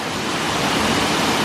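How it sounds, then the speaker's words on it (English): Small waterfall at Akchour Waterfalls near Chefchaouen, Morocco, giving a steady, dense rushing roar of falling water, loud and close, unbroken for the whole brief stretch. "now we made it to the small waterfall."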